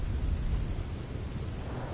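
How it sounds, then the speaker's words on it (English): Steady rain in a video game, a constant, dense hiss of falling water with a low rumble beneath, unbroken and fairly loud throughout. "it rains an awful lot in this game"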